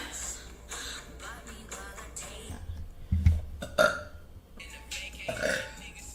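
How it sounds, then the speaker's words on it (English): A woman burps loudly a few times in a row, deep and throaty, with one big belch in the middle followed by shorter ones, close to the mic in a quiet room. "I have to burp, guys."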